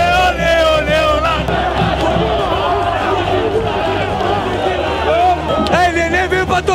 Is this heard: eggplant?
no